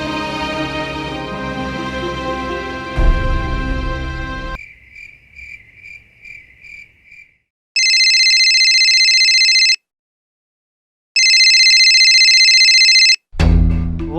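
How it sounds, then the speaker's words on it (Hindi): A mobile phone rings with an electronic ringtone in two long, loud, steady bursts separated by a short silence, following a stretch of music with no talking. "फोन उठा"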